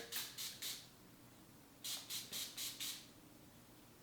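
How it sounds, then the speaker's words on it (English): Evian facial spray pumped onto a makeup sponge: three quick hissing mist bursts, a pause, then five more evenly spaced sprays, close and crisp in a quiet room. "rehydrate it here with a little Evian facial spray"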